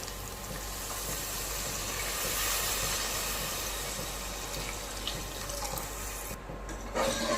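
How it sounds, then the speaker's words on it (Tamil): Coconut milk pours into a pot of soaking rice for a coconut milk rice dish, giving a steady broad watery rush that holds for several seconds before tapering near the end, with no talk. "இப்போ நம்ம தேங்காய் பால் ஊற்றிக்கலாங்க."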